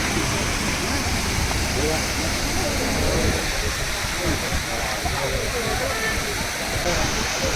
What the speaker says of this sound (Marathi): असं हे वरून वाहत येतं डायरेक्ट खाली